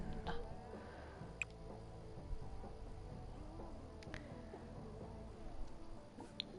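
A goat in the farming and baking video game Baker's Life bleats faintly over soft game background sound, a few quiet short calls with no talking.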